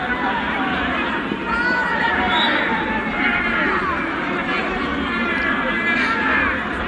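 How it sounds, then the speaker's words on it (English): Steady crowd noise from Waterhouse FC supporters at a Jamaican Premier League football match against Vere United FC, a continuous broad roar with scattered shouts and whistles throughout. "And the crowd here appreciating that, the Waterhouse supporters."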